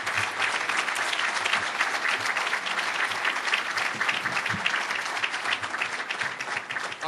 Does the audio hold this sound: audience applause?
yes